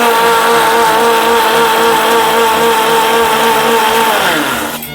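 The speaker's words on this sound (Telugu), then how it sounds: "దీన్ని ఇప్పుడు మొత్తం మిక్సీ పట్టాలా" A loud, steady whirring grind of a mixer grinder blending biscuit cake batter, running continuously and winding down at the very end.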